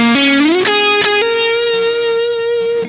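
An Ibanez JEM 7V electric guitar played through its neck pickup with heavy distortion: a loud sustained lead note with a quick bend and a couple of picked accents, ringing out thick and harmonically rich.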